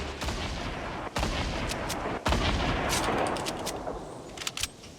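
Grenade explosions in the Fortnite video game: loud booming blasts, two sharp ones a second apart and then a rolling rumble with scattered crackling pops near the end, with no talk.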